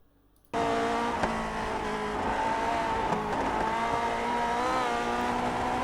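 Simulated Lotus 49 race car lapping Bathurst in iRacing, its engine cutting in abruptly after a short silence, then holding a loud, steady, buzzing drone while the pitch shifts slightly through gears.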